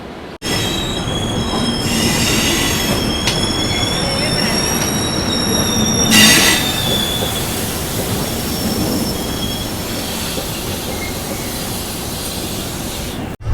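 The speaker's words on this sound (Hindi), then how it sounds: "भागलपुर जंक्शन से अपनी तेजस राजधानी एक्सप्रेस निकल चुकी है" The Tejas Rajdhani Express pulls out of Bhagalpur Junction with loud, sustained wheel squeal over rolling rail rumble and clatter, heard close from on board.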